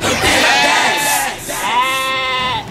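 Goat bleating loudly and close, a wavering, harmonic cry in two long bursts with a brief dip between, over some background crowd noise.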